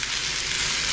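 Ingredients for a chicken mole almendrado charring in a hot pan give a steady, dense sizzle, loud and close, with no voices over it.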